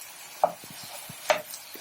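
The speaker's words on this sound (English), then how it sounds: "Let's give it another stir." Chicken is stirred in a pan, a couple of scraping strokes and light knocks against a faint sizzle.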